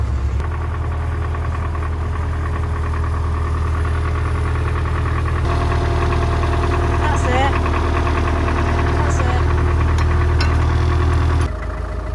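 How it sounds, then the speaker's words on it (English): An old farm tractor engine idles steadily close by for the whole stretch, a low, even rumble with faint knocking that cuts off near the end, while outdoor background noise runs beneath. "So this morning Dad's brought the old tractor up and he's going to bring a roller down."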